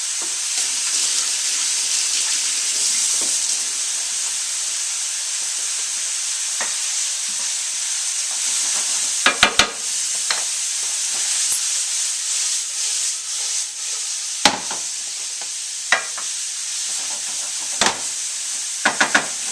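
Fennel and sausage sizzling steadily in a pan during a cooking demo, a continuous close frying hiss with occasional sharp crackles and pops, no voices over it.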